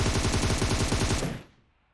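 A rapid burst of automatic gunfire in the game PUBG Mobile on the Livik map, loud and dense with evenly spaced shots, then cutting off and fading into a short tail.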